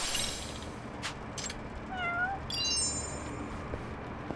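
A single clear meow comes from a cat in Lost Judgment, set among a few faint clicks and chimes over a low, steady game ambience.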